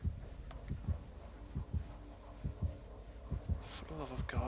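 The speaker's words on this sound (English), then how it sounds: "I'm gonna wait till my heartbeat goes down." Thumping heartbeat effect from the Dead by Daylight video game, a steady repeating double-thud pulse at moderate loudness with other game sounds layered over it.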